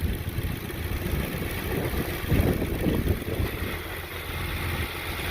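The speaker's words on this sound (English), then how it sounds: "Motor sounds great." A 2009 Ford Crown Victoria P71 police-package sedan with 157k miles idles steadily, a low even engine rumble with a brief swell in the middle, close by and with no talking.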